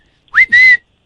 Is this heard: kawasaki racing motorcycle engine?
no